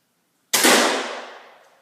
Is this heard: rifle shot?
yes